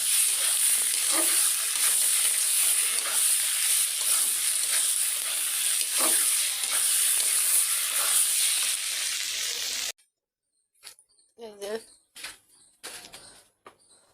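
Bottle gourd (lau) fries in a pan with a steady, dense sizzle for about ten seconds. It then cuts off abruptly, leaving a few short clatters and knocks.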